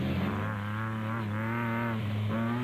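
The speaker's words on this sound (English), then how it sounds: "The special vehicle leaders were still Mmabatho and Sally in the Sam Racing Jimco." Off-road race vehicles such as a Jimco buggy at the Mmabatho 500 desert race give a steady, fairly faint engine drone with wavering harmonic pitch, heard at a distance throughout.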